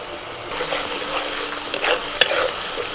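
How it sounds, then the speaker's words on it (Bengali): Onion paste fries in a pan with ginger garlic paste while a spoon stirs it, giving a close, steady sizzle broken by scraping strokes and a sharp clink of utensil on metal. "পেঁয়াজ বাটাটা একটু ভেজে নিয়ে এবার দিয়ে দিচ্ছি আমি আদা রসুন বাটা"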